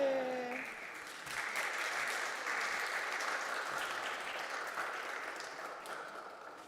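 Audience at a live arts event in Berlin claps and cheers, a broad steady wash of applause rising after a brief voice at the start and slowly fading toward the end.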